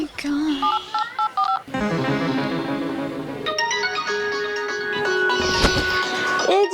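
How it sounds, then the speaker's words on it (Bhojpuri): A phone rings late at night in a Bhojpuri comedy sketch, its electronic tones beeping and ringing continuously and fairly loud, with voices talking over it. "देखी ना केहू फोन करता ना काट दरा"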